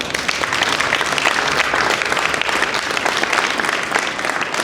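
Steady, dense applause from a seminar audience in Slovenia, a loud continuous wash of many hands clapping throughout with no speech.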